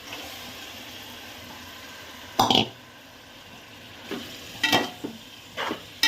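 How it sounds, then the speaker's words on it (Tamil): Tomatoes go into a hot pan of frying ingredients for tomato rice and are stirred, a soft steady sizzle broken by several brief scraping, clattering stirs spaced a second or two apart, close and moderately loud. "இப்போ இதோட தக்காளியை சேர்த்துக்குருவோம்"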